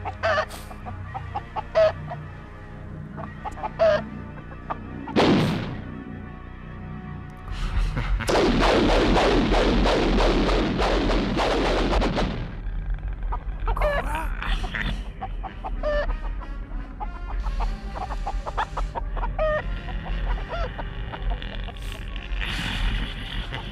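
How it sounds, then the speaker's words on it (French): Chickens clucking and squawking in a film scene, close and fairly loud, with a burst of flapping and commotion in the middle, then more scattered clucks over background sound. "t'es une poule"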